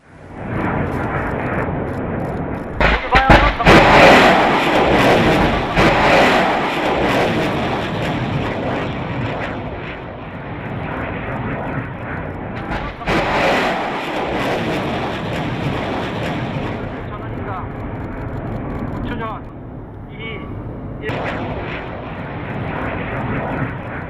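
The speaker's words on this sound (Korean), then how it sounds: "2020년에 있었던 천공투의 모의 발사 장면 직접 보겠습니다" A Cheongung-2 surface-to-air missile roars on a test launch, a loud sustained rushing thrust with sharp surges and wind buffeting, fading gradually into the distance.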